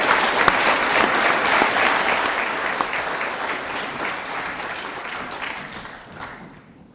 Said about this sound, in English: Round of applause for this group of students.